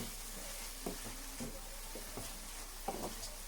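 Chana masala with kasturi methi leaves stirred in a sizzling pan, a constant quiet hiss of frying broken by a few soft spatula scrapes and taps at irregular intervals.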